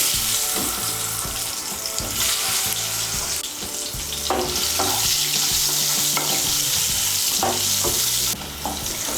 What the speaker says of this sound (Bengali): তুলে নিয়ে এই তেলের মধ্যে আমি আলুগুলো ভেজে নেব